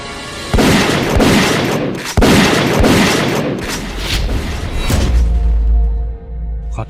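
Rifle gunfire in a Thai jungle drama, a burst of loud booming shots with sharp cracks, several quick blasts in succession, ringing out before a low rumbling tail.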